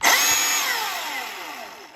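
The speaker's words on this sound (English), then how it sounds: "it's unlocked and this chainsaw starts" A Milwaukee M18 FUEL 16-inch cordless chainsaw gives a sudden loud electric motor whine as it starts, then the pitch falls smoothly and fades over about two seconds. Close and alone, with no voices.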